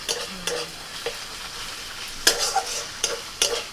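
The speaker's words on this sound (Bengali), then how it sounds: "পেঁয়াজটা একটু ভেজে আদা রসুন পাটাটা দিয়ে দিলাম" Onion and ginger-garlic paste fry in a pan, giving a soft continuous sizzle broken by several sharp scrapes and stirring strokes of a utensil at irregular intervals, with no talk.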